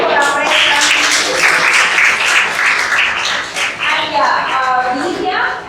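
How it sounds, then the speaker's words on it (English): A room of students breaks into sustained applause at a school entrepreneur conclave, the dense clapping holding steady for several seconds before tapering slightly and swelling again, with faint voices mixed beneath. "So can my students clap for our press?"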